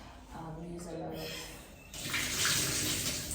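Lukewarm tap water runs into a basin for washing a wig, starting as a soft trickle, then gushing louder and fuller after a couple of seconds.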